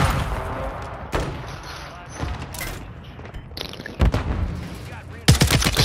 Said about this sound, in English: they called in a fucking airstrike